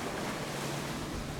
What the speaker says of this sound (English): We have some waves coming in, but as you can see, is water splashing through the dock here, or off the boat,